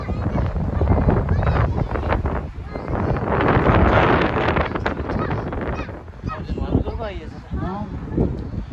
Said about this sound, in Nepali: आहा कति शीतल हावा आएको कि है